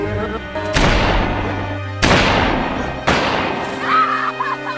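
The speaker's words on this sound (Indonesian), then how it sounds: "Saat di tepi sungai, Casper dihadang Smile, lalu dia ditodong, lalu ditembak dengan 3 kali tembakan." Three loud gunshots in the film Sin Number, about a second apart, each a sharp boom that rings and decays before the next, with a faint tonal sound afterward.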